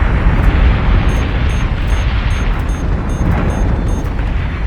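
Rumbling explosions from incoming missiles in the space strategy game Battlestar Galactica: Deadlock, a loud continuous roar of booms and blasts with faint higher crackles layered over it, no voices.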